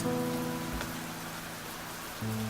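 Steady rain falls in an outdoor scene of the video game Fallstreak, a soft continuous patter mixed with faint sustained musical tones.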